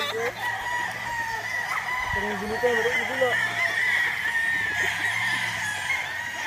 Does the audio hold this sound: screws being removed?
no